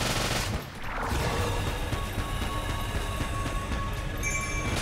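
Gunfire crackles nonstop in a run of Enter the Gungeon, a loud sustained stream of rapid bullet shots layered over continuous game noise, with a brief dip near the start before the barrage resumes.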